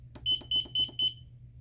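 A Cal-12c fry timer alarm sounds four loud, evenly spaced electronic beeps, each short and shrill, close by with a low hum underneath.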